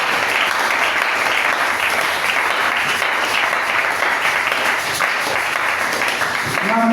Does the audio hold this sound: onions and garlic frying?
no